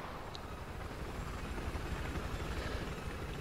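A helicopter in Battlefield 4 drones with a steady rotor and engine roar, constant and fairly loud throughout.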